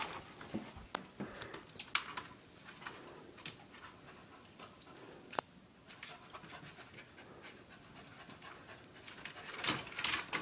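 A dog pants quietly in quick, soft breaths close by, with a few sharp clicks and taps scattered through and a slightly louder stretch near the end.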